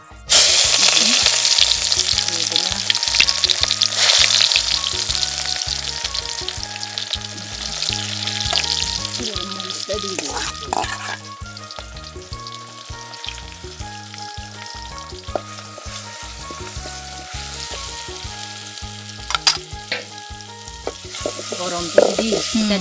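Onions fry in hot oil on an outdoor stove in a hill-country kitchen, with a loud sizzle at first that settles into a continuous crackle, broken by scraping stirs and occasional clinks of a utensil.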